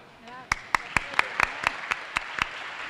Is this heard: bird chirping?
no